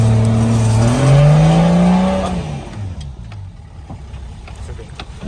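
A Nissan Patrol 4x4 accelerates up an off-road slope. Its engine is loud and close and rises in pitch as it revs, then fades and drops away as the vehicle moves off.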